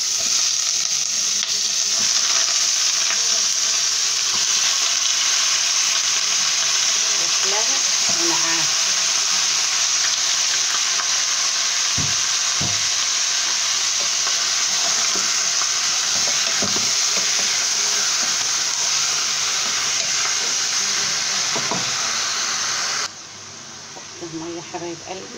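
Meat and onion fry in a pot with a loud, continuous hiss and sizzle. Stirring clatters now and then throughout, and a voice is faint in the background.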